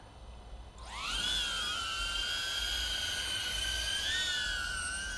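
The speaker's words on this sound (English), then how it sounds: "So go ahead and put the drone in the air and we will get started." A DJI Avata drone fitted with ribbed duct guards spins up from quiet and lifts off outdoors, settling into a loud, high, steady whine with slight pitch wavers as it hovers close by.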